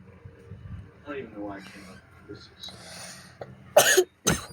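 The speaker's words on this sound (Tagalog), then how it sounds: "Ayan, ubo." A person coughs twice in quick, sharp bursts near the end, loud and close, after a stretch of background talk and movement while walking around a mansion.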